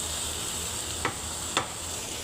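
Sliced bitter gourd (ampalaya) half-cooking in a hot pan with tomato and salt, giving a steady close sizzle with a few short stirring scrapes.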